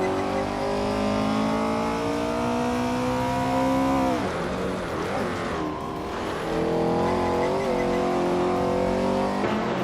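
Race cars in a racing video game roar past and accelerate while overtaking, loud revving engines rising in pitch, dipping as one car passes, then climbing again, with tires squealing briefly.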